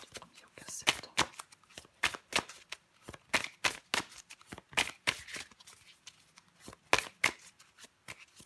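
Tarot cards being shuffled, a run of crisp irregular riffling and slapping bursts close by, with a voice speaking softly in between.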